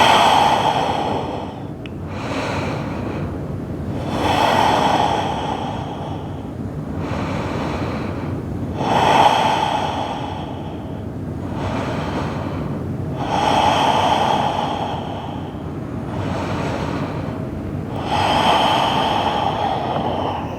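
Slow, deep breathing in child's pose during a vinyasa yoga flow, five long rhythmic inhale-exhale cycles, close and loud, with a rushing, snort-like air sound on each breath.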